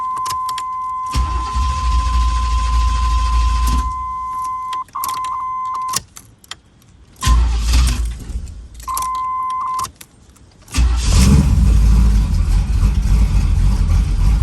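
A third-generation Camaro cranks and starts, then idles roughly on first startup, its engine surging and cutting out in uneven bursts, broken by a steady electronic chime and short quiet gaps.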